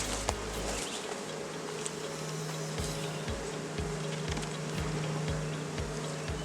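Honey bees hum steadily around a beehive frame, a close, continuous drone with a few buzzing insects passing near, and a soft low pulsing beneath.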